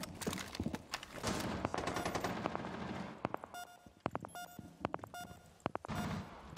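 Video game gunfire aimed at a poorly textured building ceiling, emptying two magazines: dense rapid automatic bursts at first, then sharper separated shots and short bursts with brief gaps, with small electronic beeps in between.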